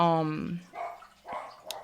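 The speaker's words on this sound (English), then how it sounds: "yeah, Draco's barking, confirmation" A pet dog barking indoors, a few short separate barks spaced about half a second apart, fairly faint and following a brief tonal vocal sound at the start.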